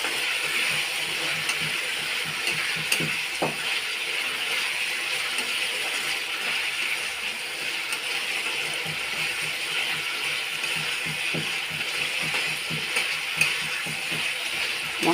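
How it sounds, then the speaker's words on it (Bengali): Tomatoes fry with spices in a pan, a steady, even sizzle running the whole time, with occasional soft scrapes and stirring clicks beneath it. "এবারে মশলার সাথে টমেটোটা একটু কষে নেব।"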